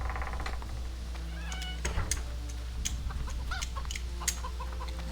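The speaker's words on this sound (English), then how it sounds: "Chicken, chicken, chicken." Chickens cluck in a Witcher 2 village, several short bursts repeating through the whole stretch, mixed with bright calls at moderate loudness over a low steady game ambience.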